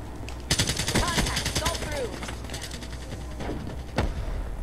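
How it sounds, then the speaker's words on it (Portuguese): Rapid automatic gunfire in Black Ops 3 on PS3, a dense rattling burst and then scattered single shots, loud and close, with players talking over it. "Tem cara atirando na gente."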